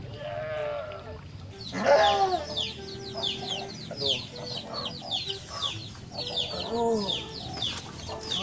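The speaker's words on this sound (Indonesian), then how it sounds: "berisik lagi nih ayam" Chickens cluck close by in a busy run of repeated, overlapping calls, some louder squawk-like notes rising above the rest.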